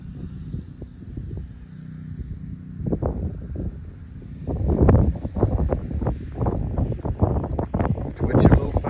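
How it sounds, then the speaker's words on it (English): Strong wind of about 20 mph from the south buffets the microphone outdoors at a fishing spot, a steady low rumble with gusty bursts, heard under a man's speech. "We got a strong wind out here today."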